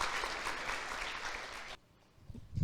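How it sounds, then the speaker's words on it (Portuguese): A church congregation applauds in a dense wash of clapping that stops abruptly partway through, leaving quiet room tone and a faint low rumble. "Aplauda o Senhor por isso."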